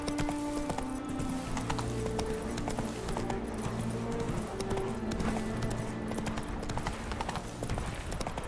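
Clip-clop of Roach, a horse in The Witcher 3, galloping steadily at close range, hooves drumming over a continuous bed of game music and ambience, with a faint whinny in places.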